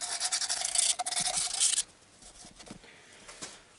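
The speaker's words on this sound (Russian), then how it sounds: "Теперь надо дальше почистить головку. То есть посадочное место под" Someone scrapes and rubs the cylinder head gasket seating surface of a VAZ 2111 engine clean, making a close, loud abrasive rasp in quick strokes for about two seconds, then fainter intermittent scratching.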